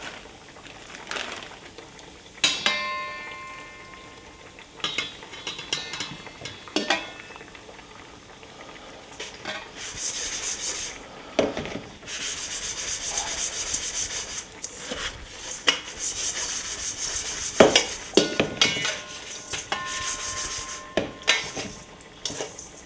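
Pork frying in oil heated to 325 degrees, a steady hiss and sizzle with crackling bursts and scraping rubs throughout, loud and close.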